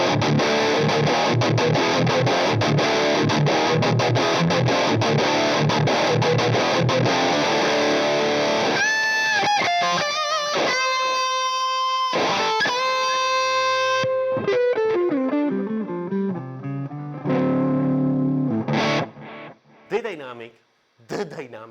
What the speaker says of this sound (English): now the pedal with the distortion halfway up without the scoop switch engage